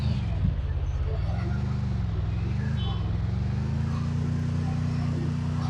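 A vehicle drives in the mobile battle royale game Garena Free Fire, its engine a steady low drone with slight rising and falling pitch, running continuously under a player's voice.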